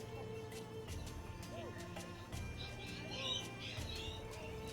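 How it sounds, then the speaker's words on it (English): Loud Australian birds outside give repeated chirps and cooing calls, some distinct and some overlapping, over a steady indoor background hum. "Got some loud birds outside if you can hear them."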